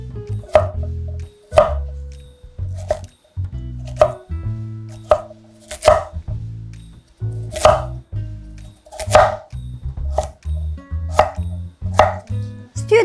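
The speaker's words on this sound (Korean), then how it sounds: "그래서 콜라비는 한 1cm 정도로 썰어줄 건데요." A knife chops repeatedly through kohlrabi into roughly 1 cm pieces on a cutting board, crisp thuds coming at an uneven, steady pace for several seconds.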